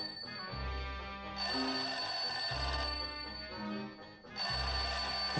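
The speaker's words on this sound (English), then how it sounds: "Sounds like the phone to me." An old-fashioned telephone bell rings in repeated loud bursts, set in a classic black-and-white television drama, with a sustained tonal backdrop between rings and no talk over it.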